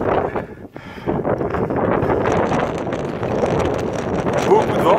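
Strong, steady wind on a mountain summit buffeting the microphone, a loud broadband roar that dips briefly near the start then blows on continuously.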